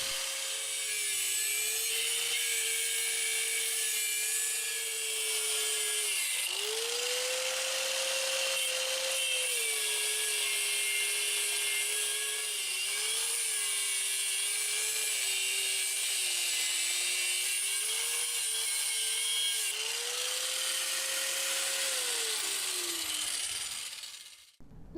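A cheap $15 angle grinder with a cutoff wheel cuts through brick, a loud, continuous high whine with a slightly wavering pitch as the wheel bites. It runs for over twenty seconds, then spins down at the end.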